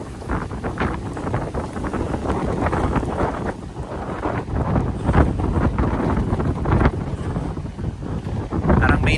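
Strong typhoon wind blasting across the sea on the coast of Aklan, a continuous loud roaring buffet of gusts against the microphone with waves faintly underneath, and no talk.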